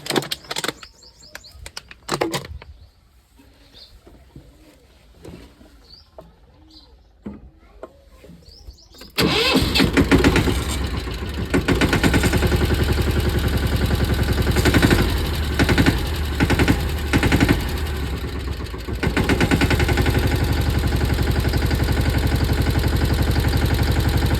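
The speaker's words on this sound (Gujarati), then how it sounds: "હવે આપણે ટ્રેક્ટર સ્ટાર્ટ કરીએ, ચાલુ કરીએ આપણે" Birds chirp in a quiet yard before a mini tractor's engine cranks and catches after servicing, settling into a loud, steady diesel idle with a chugging rumble.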